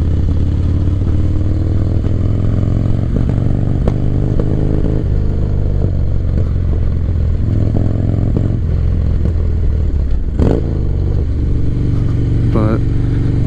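A 1985 Harley-Davidson FXR motorcycle cruising, its engine producing a steady, loud, low rumble that holds throughout, with road and wind noise mixed in and occasional brief clatter.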